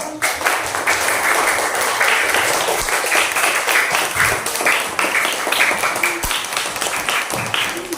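Students in a classroom applaud their classmates' presentation, a lively spread of many hands clapping steadily at moderate loudness, with a few brief voices surfacing in the mix.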